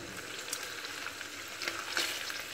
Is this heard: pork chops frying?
yes